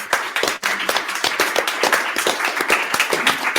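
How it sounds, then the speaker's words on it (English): A panel audience applauds its panelists after a bitcoin discussion, with dense, fairly close clapping that holds steady throughout and has distinct individual claps standing out. "let's give our panelists a big round of applause"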